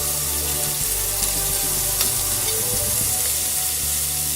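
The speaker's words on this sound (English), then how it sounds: "We're going to get the bacon nice and brown." Bacon fries and browns in a pan alongside green beans and onions, a steady close sizzle with light crackle and the odd soft clink of stirring, with no talk.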